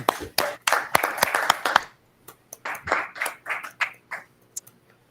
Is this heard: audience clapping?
yes